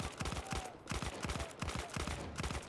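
Rapid gunfire from a Battlefield 1 multiplayer match as players shoot at a sniper, a steady stream of loud rifle and machine-gun bursts throughout.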